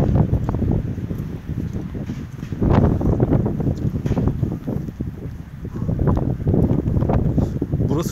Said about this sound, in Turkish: Burası çok esiyor açık.